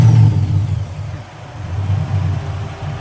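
An LS V8 swapped into a Nissan 240 drift car rumbles loudly at close range, its deep engine note rising and falling through a couple of blips after starting, with no talk over it.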